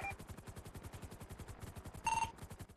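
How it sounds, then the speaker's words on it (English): Rapid automatic gunfire in a police roleplay video game, a dense continuous stream of shots with a brief electronic tone near the end, steady and moderately loud without talk. "I'm taking fire."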